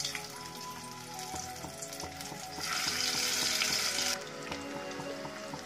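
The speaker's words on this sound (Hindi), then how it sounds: "अब हम हल्के से आलू को फ्राई कर लेते हैं। तेल में हम आलू डाल देंगे एक एक करके।" Potatoes frying in hot oil for egg malai curry, a steady close sizzle that swells louder for a stretch as more pieces go in, then settles back.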